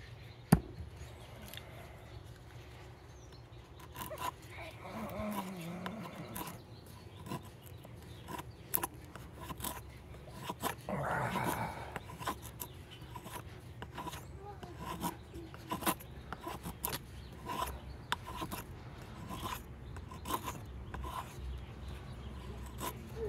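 A knife carves very hard, seasoned wood for a reverse feather drill, giving faint, irregular scraping and rasping strokes with small sharp taps, quiet and close throughout.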